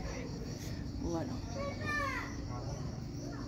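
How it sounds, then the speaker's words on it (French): Cicadas drone in Italy, a steady high shrill buzz that runs faintly beneath nearby voices and children's chatter. "Vous entendez les cigales?"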